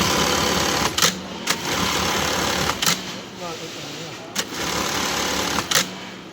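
A Juki bartack industrial sewing machine runs loudly in a steady mechanical whir, with several brief clunks as it stops and restarts; a person speaks over it.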